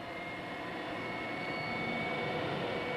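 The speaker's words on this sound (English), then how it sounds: "Hold the start button down. The fuel flow has been cut off and the starter motor will blow out the accumulated fuel in the burners." A starter motor cranks a marine gas turbine engine with fuel flow cut off, blowing accumulated fuel out of the burners: a steady, loud, continuous whine and roar with a faint high tone, unchanging throughout with no talk.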